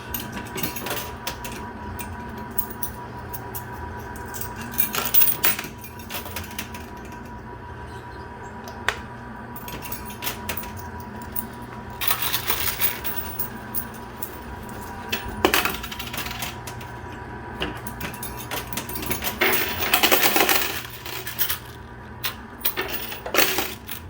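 Quarters clatter and drop inside a coin pusher machine in scattered metallic bursts of clinks and jingles, fairly quiet, with no voices.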